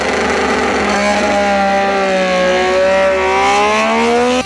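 A loud, high-pitched racing motorcycle engine revs and holds, its whine rising and falling steadily, close up with no talking.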